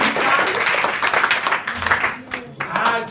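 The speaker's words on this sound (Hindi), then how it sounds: "ताली बजाओ" Children at a school academy clap together in a burst of applause, dense and close for about three seconds, with some talking mixed in beneath the clapping.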